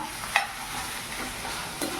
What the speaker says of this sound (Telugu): పచ్చిమిర్చి కూడా వేసుకొని రెండు ఫ్రై అయ్యే వరకు బాగా వేసుకోవాలి.